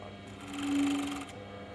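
A sewing machine runs in a short, steady whirring burst while stitching ribbing onto a sweatshirt hem, close up and fairly quiet, with no talking.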